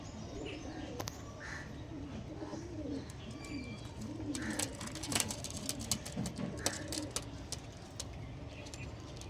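Pigeons at a home loft in an old Andhra-line flock, with Punjabi Malbai birds, coo steadily under a busy outdoor backdrop, with other birds calling and occasional sharp sounds from around the yard.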